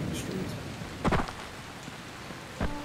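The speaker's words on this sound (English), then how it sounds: "now it's raining outside" Rain pours outside in the zombie game Dying Light as a continuous, fairly faint wash of noise, broken by a couple of brief dull knocks and no voices.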